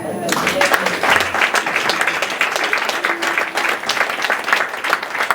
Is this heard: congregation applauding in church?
yes